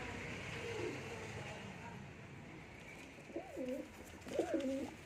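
Domestic pigeons coo near a home loft. A soft, steady background hiss comes first, then two clear throaty coo phrases rise out of it close by in the final seconds.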